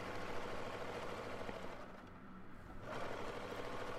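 A sewing machine stitches a sleeve for an off-the-shoulder top, its motor whirring steadily throughout, fairly close and moderately loud, with a brief quieter dip in the middle before the hum resumes.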